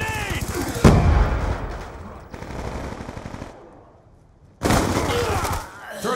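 Grenade blasts and gunfire in the Black Ops 2 video game on PS3: a loud burst near one second and a second sharp onset near five seconds, dense rapid fire between them, and a brief quieter lull before the last blast.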